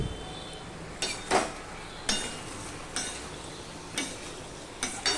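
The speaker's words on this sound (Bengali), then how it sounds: "এবার ভালো করে আমি ভেজে নেব।" Fresh green chillies frying in a pan for a vegetarian Bengali dish, a steady soft sizzle broken by about six sharp scraping stirs at roughly one-second intervals, close and moderately loud with no talking.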